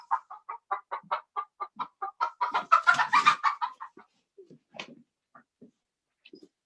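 Chickens in a farm enclosure cluck in a quick run of sharp, nearby calls that swell into a dense burst, then thin out into scattered, softer clucks.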